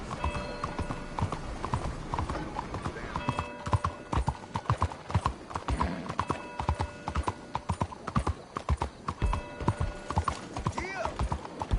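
In Red Dead Redemption 2, horse hooves clip-clop in a regular, close, persistent gait, with occasional faint voices and background tones mixed underneath.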